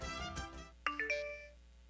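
Near the end, a phone notification ringtone chimes as a few quick, bright electronic tones that ring out briefly after a moment of quiet. Faint trailing sound precedes it.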